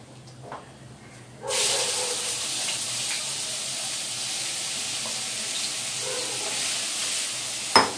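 Onions dropped into heated oil for a cauliflower 65 curry, a sudden loud sizzle bursting in after a quiet start and then hissing steadily, with faint stirring clinks and a sharp tap at the end.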